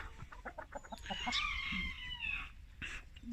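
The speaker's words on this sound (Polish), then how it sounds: "Zobaczcie, kogut trochę się boi, wiadomo, bo jest w nowym kurniku." A rooster in a new coop clucks in quick, nervous bursts, then lets out a longer strained call, heard close but quietly, with faint rustling around it.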